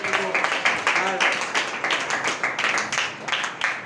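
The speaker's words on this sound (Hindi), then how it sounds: "ताली" Church congregation clapping steadily for several seconds after a hallelujah, a dense patter of many hands with voices mixed in beneath it.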